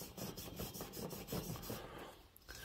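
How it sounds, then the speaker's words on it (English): A used Scotch-Brite pad rubs back and forth across a plated engine cylinder in quick, rhythmic scrubbing strokes, close and fairly quiet, trailing off near the end. "let's hit this with some Scotch-Brite before we pause it"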